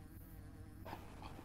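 A swarm of bees buzzing in a video game, a faint, steady insect drone that thickens partway through, with no voices.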